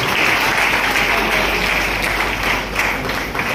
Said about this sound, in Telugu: నాగరాజు గారికి ఒకసారి చప్పట్లతో వచ్చి అభినందనలు.